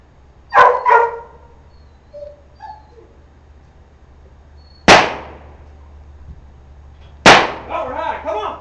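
Sharp gunshot-like pops fired to train dogs against gun shyness, with three loud close bursts spread apart, the first a quick double, and dogs barking and yipping nearby between them.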